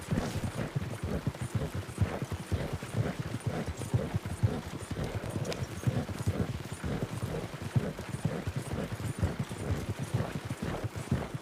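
Horse hooves clip-clopping as a team pulls a wagon in a western video game, a steady, dense rhythmic trotting with rolling wheel rumble, continuous and fairly close.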